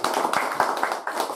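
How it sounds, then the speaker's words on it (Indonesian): Audience clapping for the speakers at the close of a village election-office launch and talk show, a short run of quick, fairly close handclaps with voices faintly beneath. "Tepuk tangan untuk para narasumber."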